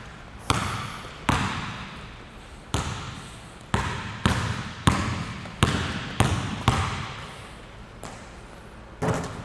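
Basketball dribbled on a court, about a dozen sharp, evenly paced bounces ringing out close by, with no talk over them.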